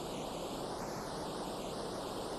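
Wild water pours steadily over a weir on the River Liffey during the Liffey Descent canoe race, a constant broadband rush close by with no break and no voices.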